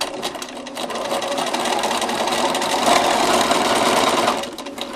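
Sewing machine stitching binding onto a quilt, a loud, continuous rapid mechanical whir with fast needle clatter, running steadily close by before slowing at the end.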